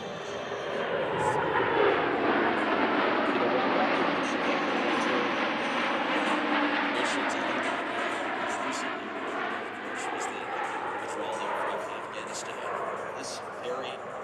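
USAF C-17 jet transport passing at over 350 mph during a Miramar air show, a loud, steady roaring engine wash sustained throughout with a slowly shifting pitch, with an announcer talking over it.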